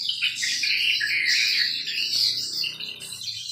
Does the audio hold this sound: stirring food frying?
no